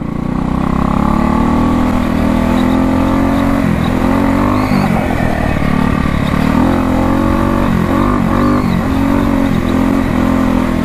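A 1968 Harley-Davidson motorcycle engine running for the first time in over 30 years, a loud steady rumbling idle close by, with a few throttle blips midway and no talking.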